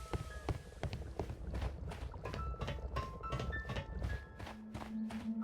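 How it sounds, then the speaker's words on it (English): Footsteps walking across a metal surface in the Sherlock Holmes: Crimes & Punishments video game, a steady run of clanking steps at moderate volume with faint tonal game sounds behind. "The classic walking on metal sound effect."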